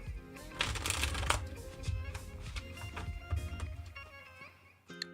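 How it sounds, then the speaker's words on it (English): Tarot cards are shuffled by hand in a quiet room, quick riffling bursts and soft slaps repeating, then a final sharp riffle near the end. "Two shuffles."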